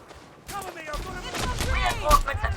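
In the Elite Dangerous Odyssey video game, a burst of sharp gunfire cracks through the scene, with several rapid shots and impacts, mixed with a voice speaking over it.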